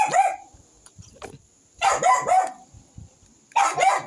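A dog barks in three separate bursts of quick, sharp yaps, fairly close, with quiet gaps between them and no talking.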